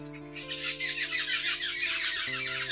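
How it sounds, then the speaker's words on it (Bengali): Several birds calling around a village in the morning, a dense stretch of chirps and trills close by over a steady low hum, with no talk. "তো কত সুন্দর পাখির ডাক,"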